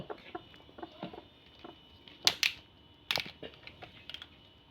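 A brooding hen with lice makes soft, scattered clucks close by, mixed with light clicking and rustling and a few louder sharp bursts.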